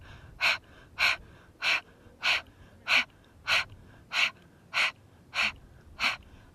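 Ten sharp, forceful nasal exhales in the rapid breath-of-fire yoga technique, spaced evenly about every 0.6 seconds, close and clear with quiet gaps between.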